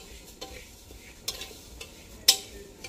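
Soft sizzling of lentils frying in a pan on an outdoor gas stove, with a spoon scraping and stirring now and then, a few sharper metallic clinks punctuating the low frying hiss.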